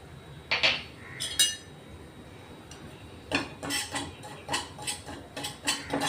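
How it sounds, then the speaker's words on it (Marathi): Dry semolina (rava) roasted without ghee in a pan while being stirred with a steel spoon, giving light scraping and clinking metal taps in irregular bursts, close up, with short pauses between them. "रवा भाजून घेतोय आपण."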